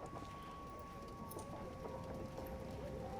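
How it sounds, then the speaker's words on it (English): Rain falling outside in a Sherlock Holmes video game, a faint, even patter of drops on surfaces with a steady background hiss, soft and distant, with a sustained tone under it. "Oh god, it's raining outside."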